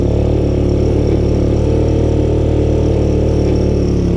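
A Honda ATC200S three-wheeler runs in first gear on a homemade gas tank after years unused, its single-cylinder engine giving a loud, steady, close drone with an even low throb throughout.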